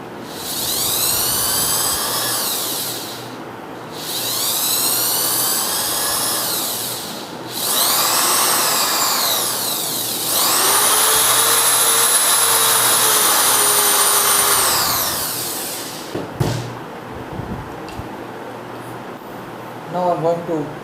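An electric drill with a 3.5 mm bit whines in several sustained bursts, each running a few seconds with short pauses between, loud and close.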